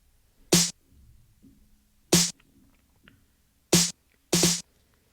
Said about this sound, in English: Now moving on to the snare pattern, it's just simple, sounds like this.